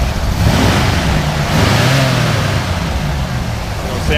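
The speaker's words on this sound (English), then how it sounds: "Go ahead and rev it up a little bit." The engine of a 1971 Ford F100 Sport Custom pickup revving, a loud, close, continuous roar that rises and eases with the throttle.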